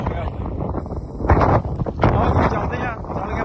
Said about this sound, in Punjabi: ਵੱਢੀ ਹਵਾ ਚੱਲਦੀ